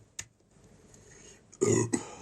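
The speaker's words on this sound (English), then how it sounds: "Burp, I'm sorry." A man lets out a single short, low burp, close to the microphone, after a faint mouth noise and a quiet pause.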